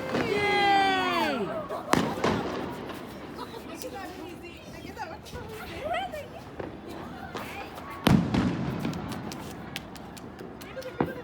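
Fireworks bursting during an outdoor celebration, with sharp booms near two and eight seconds over a steady crackling wash, while people cheer and chatter close by throughout.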